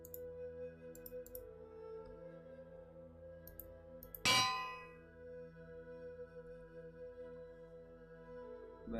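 A bell is placed while building a base in a video game, a single bright metallic clang that rings out and fades over quiet background music, with faint clicks before it.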